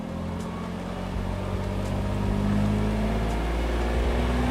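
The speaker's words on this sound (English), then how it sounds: "you can hear it sort of chattering in the bottom end" A BMW E46 M3 engine held steady at raised revs, a loud continuous drone with a chattering, worn-sounding bottom end, close up and with no talk over it.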